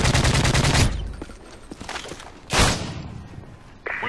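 Rapid automatic gunfire in a video game shootout, a dense loud burst followed by scattered single shots and another sharp blast, close and harsh, with brief footsteps between.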